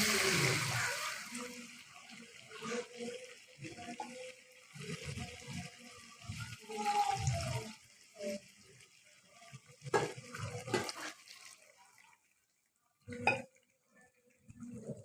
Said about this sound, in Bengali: পানিটা গরম ছিল তাই দেওয়ার সাথে সাথে বলক এসে গেছে